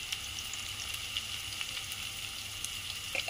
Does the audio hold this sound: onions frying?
yes